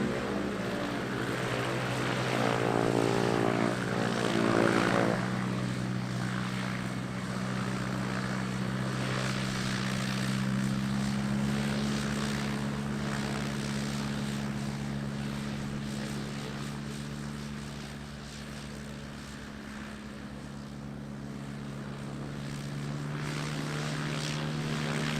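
A Diamond DA40 propeller plane taxiing at Lelystad Airport, its engine droning steadily and loudly at moderate distance, the pitch shifting slightly as it moves, with no talk.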